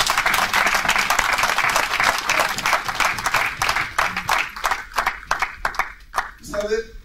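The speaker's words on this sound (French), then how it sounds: "On va acclamer le Seigneur." A church congregation claps and cheers to acclaim the Lord during a sermon, dense sustained applause that thins into scattered claps toward the end.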